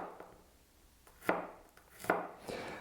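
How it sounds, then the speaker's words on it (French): Garlic minced and chopped with a knife on a board for a spiced carrot and cashew salad, a few soft, separate knife taps spaced out over quiet background. "Je vais l'émincer et hacher."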